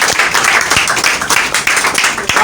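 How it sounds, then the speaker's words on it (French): A church congregation breaks into applause, a dense, loud patter of many hands clapping close by for a couple of seconds with faint voices mixed in. "Applaudissez à Dieu."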